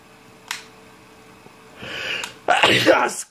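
A person sneezes close by: a short sharp intake, a building breath, then a loud explosive burst near the end, alone without talk.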